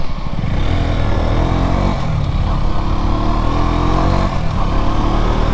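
A KTM RC 125 motorcycle engine is heard while riding, a steady, loud mechanical drone with a buzzing harmonic whine that rises and dips slightly. Wind noise runs throughout and no voices are heard.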